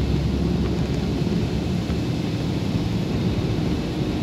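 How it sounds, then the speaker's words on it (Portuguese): Heavy evening rain falls steadily over the streets of Maceió under a fully overcast sky, a dense, continuous wash of noise with a low rumble beneath it, with no voices. "Chuva continua."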